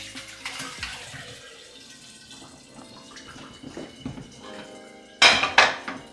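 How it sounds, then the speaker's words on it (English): Whey is strained off freshly made homemade cheese for rasmalai in a kitchen, with running liquid and splashing alongside clinking pots and utensils, ending in a couple of louder metallic clanks. "So now we'll strain the water from the milk,"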